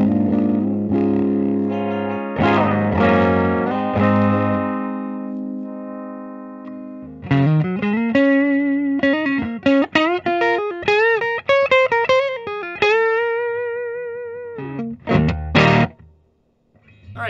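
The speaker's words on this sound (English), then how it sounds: "now let's go ahead and try some distorted tones" Reverend Jetstream 390 Outfield electric guitar (2022) played through distortion, first sustained chords, then a quick run of bright picked notes and bends, ending in short stabs; loud and close, no talking.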